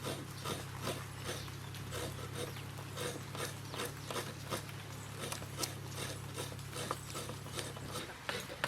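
Fresh coconut being grated by hand for a sweet somas filling, giving a steady run of rhythmic scraping strokes close by, repeated evenly for several seconds over a low steady hum, with no talking.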